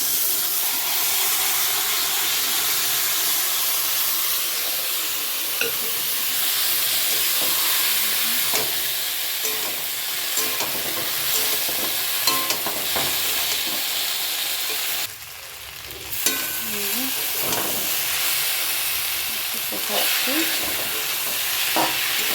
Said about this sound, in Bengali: ছোলা সিদ্ধ করা ছোলা দিয়ে দেবো তেলে।